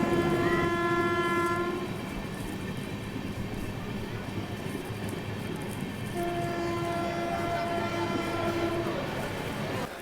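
An Amrit Bharat Express, a Gaya-Delhi inaugural special, rolls into Sasaram Junction with two long horn blasts over a continuous rumble of wheels on rails, heard from on board.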